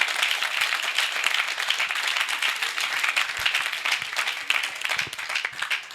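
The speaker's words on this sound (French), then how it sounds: "je pense qu'on peut les applaudir pour leur travail" A large crowd at a political conference claps steadily in dense, continuous applause, loud and sustained from start to finish.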